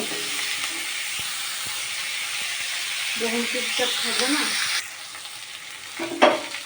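Vegetable stems being stir-fried in a hot pan for a river fish curry, with a steady sizzle and hiss, scraping stirs in bursts, and a brief quieter stretch near the end.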